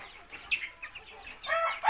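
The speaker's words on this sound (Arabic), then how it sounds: "شوف ديك الحبشي، ها هو" A turkey on a poultry farm gobbles in short, warbling bursts, faint at first and growing louder and more rapid toward the end.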